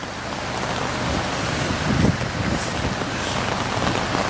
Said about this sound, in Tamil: நல்ல சணல் மழை பெய்யுது